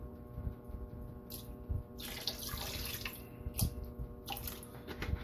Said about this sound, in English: I'm going to rinse them off so I don't have to worry about it being salty